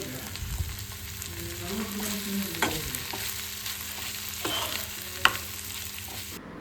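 Onion, tomato, coriander and green chillies fry in a little oil, giving a steady soft sizzle with occasional stirring scrapes and clinks of a spoon against the pan, fairly close and without talk.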